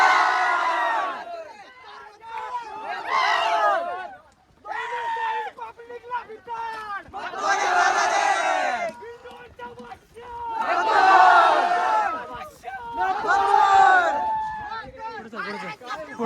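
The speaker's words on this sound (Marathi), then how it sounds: "फुल गर्दी झाली बघा" A big crowd roars and yells at a bullock cart race at the Hindkesari meet in Desai village, loud surging bursts of massed shouting rising and falling close by with brief lulls.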